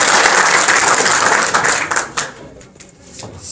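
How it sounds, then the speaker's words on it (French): Loud audience applause at a conference fills the room, dense steady clapping that thins and fades toward the end, with a few scattered claps lingering. "Un tonnerre d'applaudissements pour Monsieur Boubker."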